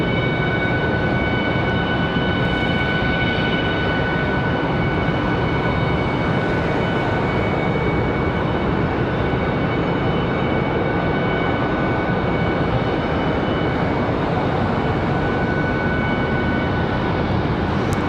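A Boeing 757 airliner at Charlotte Douglas airport roars steadily and loudly throughout, a broad continuous jet rumble with sustained engine whine and no voices.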